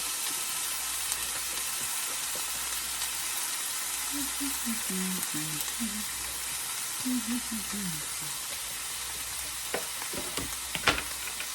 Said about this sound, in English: peppers and onions. And saute this down.